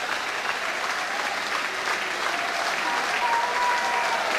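A football crowd at a Plymouth Argyle match applauds the team in a steady, even wash of clapping that stays loud throughout.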